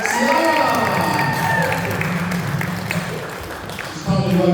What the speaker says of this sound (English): Let's have another warm round of applause for Sarah!